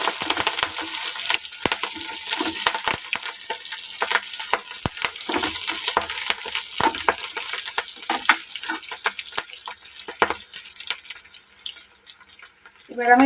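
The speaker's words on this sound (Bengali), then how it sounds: "কেটে রাখা কাঁচা লঙ্কা ফোড়ন ওটা একটু দশ থেকে বারো সেকেন্ড একটু ফোড়নটা ফ্রাই করে নিতে হবে" Chopped green chilies sizzle in hot oil as a spice tempering for a mustard hilsa and eggplant curry, a steady bright crackling hiss running throughout with scattered louder pops and clinks of stirring.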